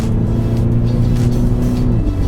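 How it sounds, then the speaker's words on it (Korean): A 2016 Mini Cooper S accelerates in fourth gear at around 3,500 rpm in normal driving mode, its engine and muffler droning loudly and steadily from inside the car. "이 엔진 사운드와, 물론 뭐 머플러가 또 주는 이 사운드가 또 한 번 있어요"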